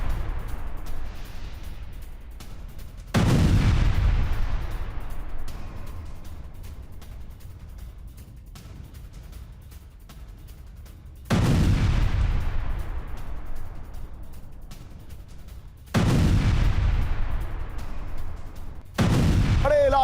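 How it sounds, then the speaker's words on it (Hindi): Missile and drone strikes on Kyiv, Ukraine: three or four heavy booms hit suddenly at intervals, each followed by a long fading rumble and distant crackle between blasts. "यूक्रेन की राजधानी में कीव में बड़ा हमला हुआ, 20 से ज्यादा इलाकों में मिसाइल और ड्रोन अटैक"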